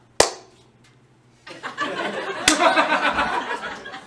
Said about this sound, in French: je suis la personne qui applaudit avant puis après le concert